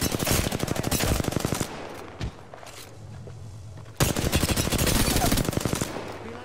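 Apex Legends gunfire: long rapid automatic bursts, loud and close, a pause with a few scattered sounds, then another sustained burst.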